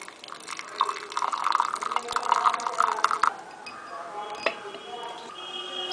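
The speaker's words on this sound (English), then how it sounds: "Now we are going to filter it." Boiled and reduced Khadira herbal decoction poured through a filter, a steady trickle of liquid with faint drips and a clink of a vessel, close and continuous, with speech faintly in the background.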